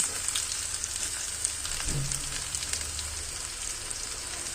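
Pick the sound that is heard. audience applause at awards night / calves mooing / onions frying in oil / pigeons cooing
onions frying in oil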